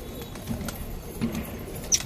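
Pigeons coo softly in a low, repeated murmur at close range amid a gathering of fancy pigeons, with faint wing and ambient noise and a brief sharp chirp near the end.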